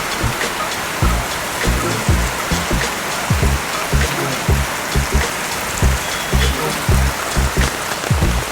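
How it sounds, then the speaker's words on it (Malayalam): A steady, heavy rainfall drums and splashes nearby for several seconds, a thick continuous hiss broken by scattered louder drops. "നല്ല സൂപ്പർ മഴ."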